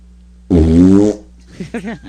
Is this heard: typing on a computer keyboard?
no